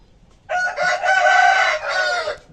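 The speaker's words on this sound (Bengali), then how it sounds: "মোরগের ডাক" A rooster crows once, loud and close, a long drawn-out call lasting about two seconds after brief quiet.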